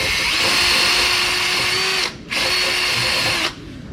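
A power tool whirs loudly and close as it scours rust from the wheel studs of a 9th-generation Honda Accord, holding a steady drone in two runs split by a brief pause before winding down.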